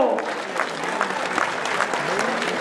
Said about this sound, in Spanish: Meño de Jalisco, le regalamos el aplauso.